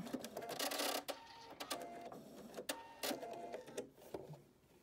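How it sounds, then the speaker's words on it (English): Sewing machine stitching a scrub cap, running in several fast mechanical bursts with short pauses between them. The whirring is fairly quiet and close, with no talk. "And I'm just stitching until we get to the elastic"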